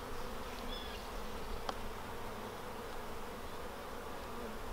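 Honeybees buzz steadily around an opened hive during a colony inspection, a dense continuous drone with one brief click partway through.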